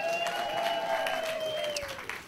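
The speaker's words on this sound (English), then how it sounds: "how about another round of applause for Zalika, our first guest?" Audience applause at a live podcast show, a short burst of clapping from the crowd with a sustained musical tone ringing underneath that slides down toward the end.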